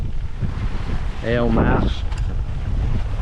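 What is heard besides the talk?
wind while sailing at sea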